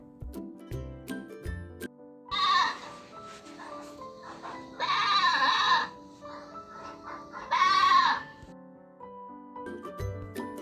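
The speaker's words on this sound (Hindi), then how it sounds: "ये है बकरा, जिसे हम इंग्लिश में बोलते हैं ही गॉट।" A male goat bleats three times, each a loud, wavering cry lasting about a second, spaced a few seconds apart over light plucked background music.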